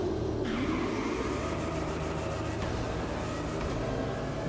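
Porsche 918 Spider hypercar engine in The Crew Motorfest, a steady mid-pitched drone with a rising rev sweep early on, continuous and fairly close, with no talking.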